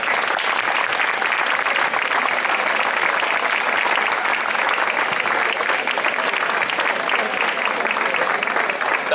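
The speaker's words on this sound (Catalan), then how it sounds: "Un fort aplaudiment al Carles." Sustained, dense applause from a gathered audience at the unveiling of a mural in Badalona, honouring the painter Carlos García Espogo; loud, even clapping that fills the whole stretch without letup.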